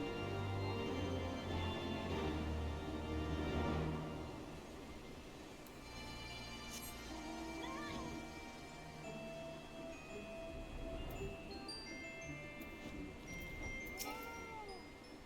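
A coral kitten meows several times in Final Fantasy XIV: Heavensward, short rising cries scattered over a soft ambient music bed, fairly quiet and alone.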